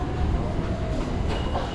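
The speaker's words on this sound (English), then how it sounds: "Finally, train is here." A train pulls into a station in East Java, Indonesia, a rumbling roll of rail cars with a faint thin squeal riding on top.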